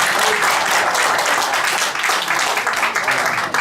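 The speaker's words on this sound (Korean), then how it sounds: "하나님 앞에 큰 영광의 박수 한번 드리겠습니다." A congregation at a March 1st national unification prayer service in Korea gives a loud, full round of applause, dense and continuous clapping filling the whole stretch.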